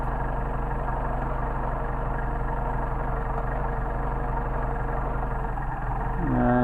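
A Mercedes 190SL engine with Solex carburetors idles steadily at close range while the carburetors are adjusted, a low, even rumble that swells slightly near the end.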